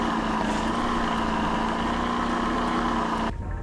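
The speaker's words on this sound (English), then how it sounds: "I didn't know diesels revved that high." Diesel truck engine held at a high, steady drone in the Rigs of Rods driving game, loud and continuous before cutting off abruptly near the end.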